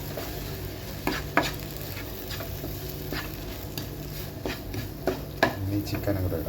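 Tomatoes being stirred into a chicken curry masala in a pan, a steady sizzle with repeated scraping and clinking strokes of a spoon against the metal, close by, some louder knocks spaced irregularly.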